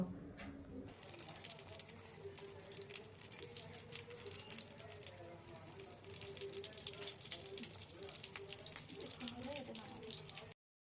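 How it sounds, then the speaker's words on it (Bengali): Chicken bora fritters sizzle steadily in hot oil while being turned, a continuous close crackle with light bubbling and occasional utensil clicks throughout. "এখন আমি এই সাইড উল্টিয়ে দিব, দিয়ে ভেজে নেব"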